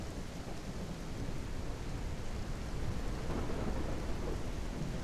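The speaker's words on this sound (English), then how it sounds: "Maybe we can get past the rainstorm." A rainstorm with rolling thunder in the farming game Hillshade Farm plays as a dense, continuous roar of rain and rumble that fills the whole stretch with no break.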